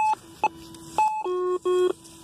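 A series of metal detector tones, short pings alternating with longer held beeps, shifting in pitch in an uneven pattern, clear and close with no talking.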